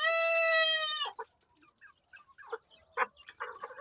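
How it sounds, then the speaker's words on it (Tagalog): Young crossbred roosters of heritage and Silkie stock crow in one clear, loud, sustained call, followed by softer scattered clucks and rustling. "At may mga tumitilaok-tilaok na dyan."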